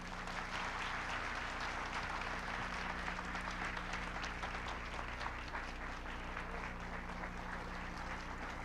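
Audience applause for Pedro Noguera at an education conference on equity and excellence, a steady wash of many hands clapping that fills the room for the whole stretch over a low constant hum.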